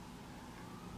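Emergency siren sounding in the background, a steady, fairly faint wail carrying through a short moment with no talk over it.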